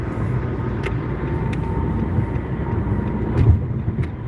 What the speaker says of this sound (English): Trying to get around this truck.